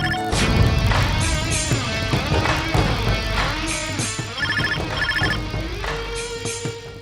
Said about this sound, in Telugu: ఆ ఫోన్ చూడండి